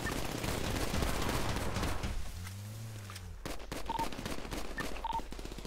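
Rapid bursts of video game gunfire crackle over a constant background, aimed at a boat, then a rolling boom, followed by scattered sharp shots and brief tones.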